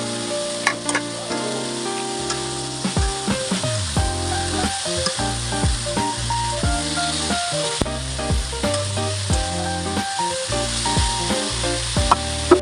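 Pork pieces fry in a pan to render their fat for Filipino adobo, giving a steady, fairly loud sizzle with crackles and pops that continues for the whole stretch, with no talking.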